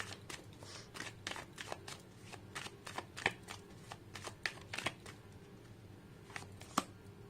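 Cards being shuffled before one is drawn for a reading: a long, steady run of soft riffling flicks, close and quiet, with faint background hum and no speech.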